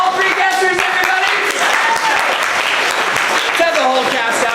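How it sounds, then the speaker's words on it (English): An improv comedy show audience applauds loudly and steadily, with a host's voice talking and calling out over the clapping. "we got applause for all three guessers, everybody!"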